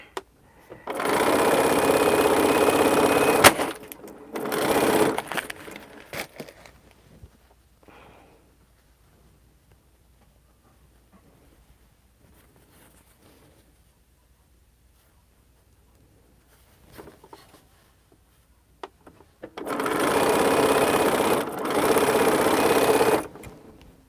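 A sewing machine stitching quilt blocks runs in two steady, close bursts, one near the start and one at the end, with a quiet stretch of faint handling between them.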